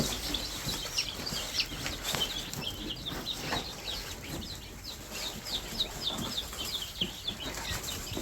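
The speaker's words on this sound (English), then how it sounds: "We got chickens!" Chicks in a brooder cheep and peep constantly at close range, with dense overlapping high calls and a few soft scuffles and flutters.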